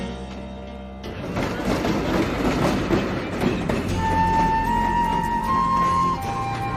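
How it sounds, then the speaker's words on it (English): A passenger train bound for Wilsonville pulls into a station on track 2, its heavy rumble and rail clatter rising loud and close, with a sustained horn-like tone sounding over the rolling noise. "Train to Wilsonville, now arriving on track 2."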